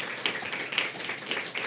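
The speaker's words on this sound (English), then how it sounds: "clap for Kali, because incredible" Audience clapping for Kali at a socialist education forum on women, a steady patter of hands from a modest crowd, moderately loud and continuous with no voices over it.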